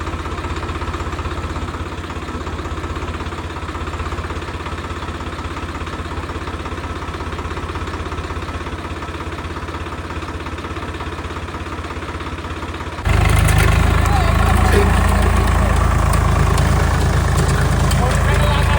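A Swaraj 855 tractor engine idles steadily in a farm field, a continuous mid-pitched rumble that grows noticeably louder and closer partway through; no clear talk over it.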